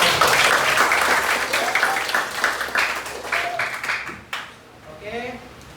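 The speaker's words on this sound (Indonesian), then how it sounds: "Oke, silakan tepuk tangan untuk kita kembali." Classroom applause at the close of a lesson, a roomful of students clapping in a dense wash that thins and fades toward the end, with some voices mixed in.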